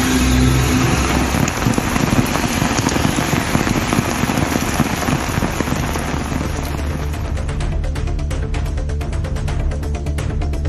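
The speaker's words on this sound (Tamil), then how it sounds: "சிவகங்கை மாவட்டம் திருப்பத்தூர் சிங்கமுனரியில் கனமழை பெய்தது" Heavy rain pours steadily in Singampunari, Tiruppattur, Sivaganga district, a loud, dense hiss of drops on surfaces that continues without break, with a faint passing engine and no voices.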